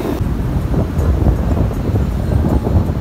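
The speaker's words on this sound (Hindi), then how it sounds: "ठंडी हवा चलती है, ऊपर से ये लहरें जो है वो दिल को लुभाए जा रही हैं" Wind buffets the microphone at Clifton Beach in Karachi, a loud low rumble with waves rolling in beneath it, steady and close, with no voices.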